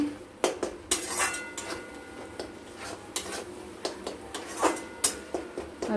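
Spice paste with mustard fries for a katla fish curry while a utensil scrapes and clinks against the pan in repeated sharp strokes; no one speaks.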